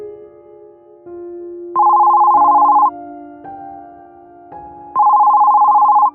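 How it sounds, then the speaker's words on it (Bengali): A telephone rings late at night with two bursts of a loud electronic ringtone, steady warbling tones separated by quieter dial-like hums, close and clear with no voices. "ফোনটা বেজে উঠল"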